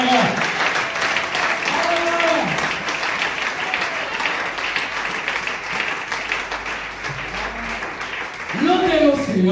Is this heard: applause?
yes